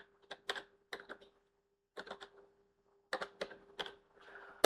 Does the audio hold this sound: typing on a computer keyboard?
yes